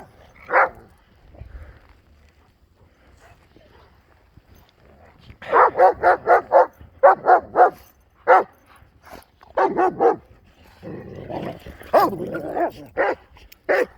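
During a blizzard dog walk in deep Sierra snow near Truckee, a dog barks in bursts of sharp rapid barks, close and loud, with quiet gaps between.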